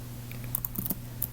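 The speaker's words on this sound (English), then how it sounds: "We'll do that by typing in" Soft keystrokes tap out a web address on a computer keyboard, a handful of quiet, irregular clicks over a low electrical hum.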